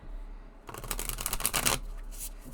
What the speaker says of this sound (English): let's do the shuffling